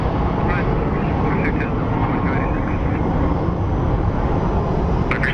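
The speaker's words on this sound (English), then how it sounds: "That's a 737 MAX, I believe." A Boeing 737 MAX airliner at Phoenix Sky Harbor airport, approaching runway 26, gives a loud, steady jet roar that fills the whole stretch, with faint voices talking underneath.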